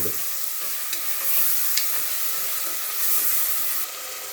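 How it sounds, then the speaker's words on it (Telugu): Mutton is stirred and fried in a hot pan for a bottle gourd curry. A steady, close sizzle hisses throughout, with a few light scrapes of stirring and no voices. "మటన్ తీసుకొని అందులో వేసుకోవాలి. అందులో వేసుకొని మంచిగా"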